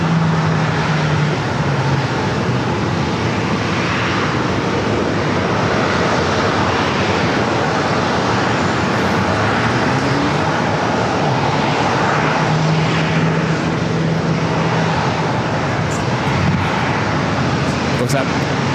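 Boeing 737-800 jet airliner arriving at San Diego airport, a steady broad roar of jet engine noise running throughout, with a voice talking over it.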